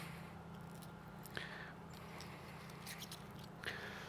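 Close-up biting and chewing into crunchy skin of a spatchcock chicken roasted in a wood-fired oven, with a couple of sharp crunches standing out over soft background hiss; no talking.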